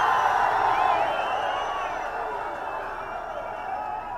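A big crowd at a political rally in Thuraiyur cheers and whoops in a steady roar that eases slightly over a few seconds, with a few whistles on top.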